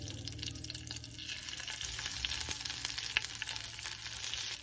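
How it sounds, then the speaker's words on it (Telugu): Urad dal, cumin and mustard seeds fry in hot oil for tempering idli upma, a continuous close crackling sizzle with scattered pops and faint stirring scrapes, with no voices. "ఇది కొంచెం ఆయిల్ వేసి మినపప్పు జీలకర్ర ఆవాలు వేసాను"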